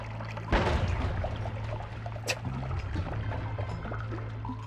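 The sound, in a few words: blood potion being sprayed out, from the video game Noita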